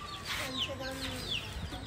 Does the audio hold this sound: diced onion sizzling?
no